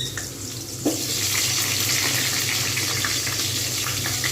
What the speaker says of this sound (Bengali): এই যে আলু ভালো করে ভেজে নেওয়া দরকার